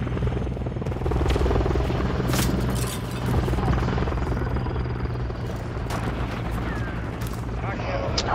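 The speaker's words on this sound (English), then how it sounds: "That's my helicopter." A helicopter in Call of Duty, with a loud continuous rotor drone and engine rumble, layered with crackling gunfire and explosions in a busy battle mix.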